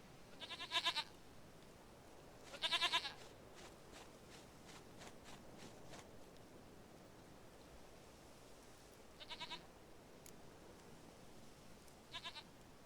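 A goat in The Witcher 3 bleats in short, quavering bursts separated by quiet gaps, four calls spread across the stretch over a soft ambient hiss with faint footsteps.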